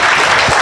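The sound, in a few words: audience giving a round of applause to conference panelists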